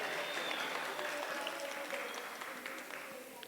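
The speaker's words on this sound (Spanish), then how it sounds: "Para todos ustedes, fuerte el aplauso." A seated crowd at a heritage stewards' gathering applauds warmly, a dense wash of clapping that slowly tapers off in volume.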